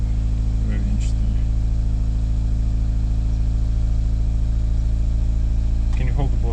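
A car engine running on 100% hydrogen idles at 1,500 RPM, a loud, steady, close drone that holds constant throughout, with brief bits of speech near the start and the end.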